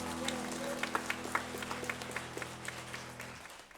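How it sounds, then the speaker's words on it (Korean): A church congregation claps together in scattered, rhythmic bursts over a sustained low keyboard chord that cuts off near the end. "하나님께 영광 박수 한번 올려드리겠습니다."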